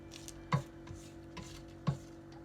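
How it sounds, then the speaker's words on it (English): A spatula scrapes the sides of a mixing bowl of no-bake candy cane pie filling, giving a few quiet soft strokes with two clearer knocks, close and without talk. "now I'm just going to scrape down the sides in here"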